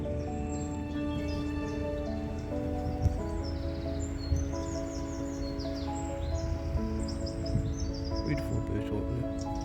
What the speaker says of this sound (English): Beautiful birds out there.